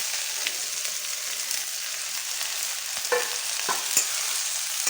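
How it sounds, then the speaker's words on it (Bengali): Whole jujubes (kul) fry in oil in a wok while a spatula stirs them for a chutney. A steady hissing sizzle runs throughout, broken near the end by a few sharp scrapes and clinks of the spatula. "আমি কুলগুলো দিয়ে দেবো দিয়ে নাড়াচাড়া করে নেব"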